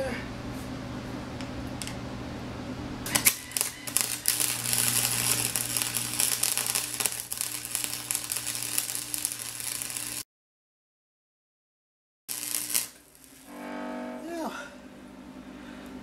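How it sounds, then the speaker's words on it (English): A fillet weld being laid during a Honda VT600 motorcycle project gives a steady, close crackling buzz for about seven seconds. It cuts off abruptly into silence, followed by a brief burst of noise and a low hum. "Here's a pretty sloppy attempt at a fillet weld."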